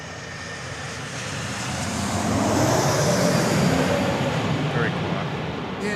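A new Qantas domestic single-aisle jet passes overhead at Sydney Airport, a soft, broad engine roar that swells in the middle and eases off, with faint traffic rumbling underneath.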